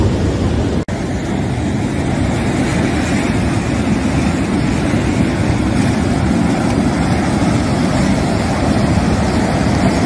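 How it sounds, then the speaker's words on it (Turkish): Rough sea waves pound a beach at Karataş, Adana, making a steady, loud, continuous roar of surf with no breaks. "Denizde bayağı dalgalı"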